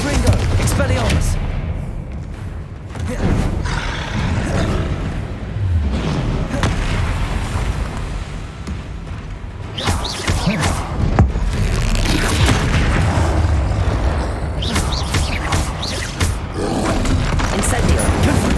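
Spell blasts and explosions in the Hogwarts Legacy video game, repeated booming bursts and roaring whooshes arriving every few seconds, loud and close, with a voice shouting spell names over the effects.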